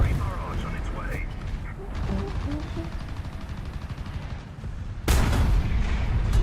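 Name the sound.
artillery barrage in War Thunder video game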